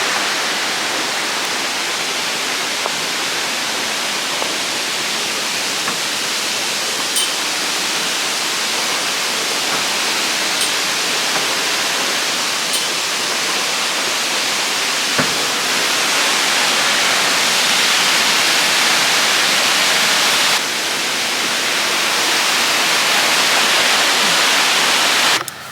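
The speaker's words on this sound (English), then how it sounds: "we're here at the waterfall and it already looks lovely" A waterfall on the Pakse loop in Laos roars with a dense, steady rush of falling water, loud and unbroken throughout, with no voices.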